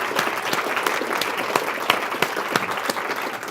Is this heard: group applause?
yes